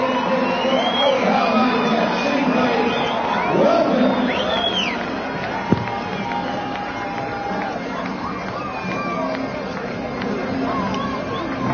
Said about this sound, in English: The crowd ready to give them a big welcome here as they run out into the stadium here in Invercargill